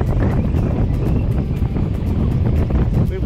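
Strong wind roars steadily into the microphone on a Florida fishing pier, a constant low buffeting rumble with faint water and boat noise underneath.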